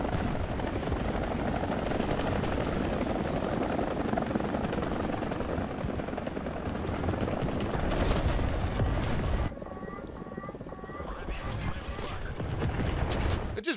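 Ka-52 helicopter in a video game, its rotor roar loud and continuous while rapid gunfire and cannon bursts crackle over it, with a sharper stretch of firing near the end.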